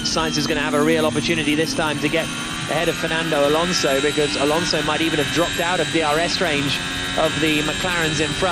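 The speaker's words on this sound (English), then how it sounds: "The Ferrari engine is the sound you can hear." Ferrari Formula 1 car engine at the Italian Grand Prix, a loud high-revving whine that climbs and drops repeatedly through gear changes, heard steadily under continuous commentator speech.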